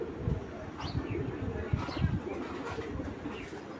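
Giribaz pigeons coo in soft repeated low throbbing calls, close by and fairly quiet, with a few faint chirps mixed in and no talking.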